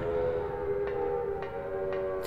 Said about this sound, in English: those sirens, man.